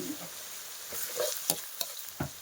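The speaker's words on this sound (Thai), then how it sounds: "ตอนนี้ก็จะเจียวกระเทียมแล้วเลย" Pounded garlic frying in oil for northern Thai pork larb, a close crackling sizzle broken by several quick scraping stirs.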